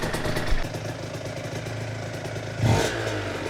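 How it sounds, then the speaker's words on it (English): An Aprilia RS125 motorcycle with a 140cc two-stroke engine warms up at a steady, rattly idle close by, with a brief blip of throttle near the end before it settles back to idle. "I'm now steadily warming the bike up and just giving it some throttle once in a while so it doesn't idle for too long"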